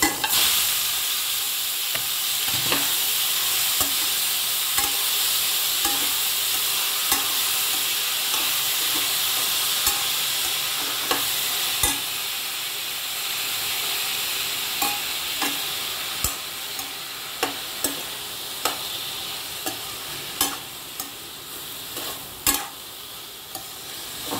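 Bottle gourd curry fries in a pan with a continuous close sizzle and hiss, while a utensil stirs and taps it in sharp, scattered clicks that come more often toward the end.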